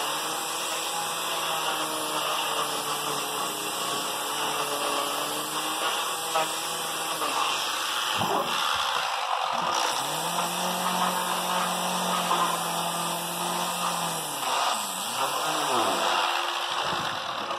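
A 90-degree variable speed electric die grinder runs with a steady high whine, dropping briefly in pitch and restarting partway through, fairly close and alone without talk.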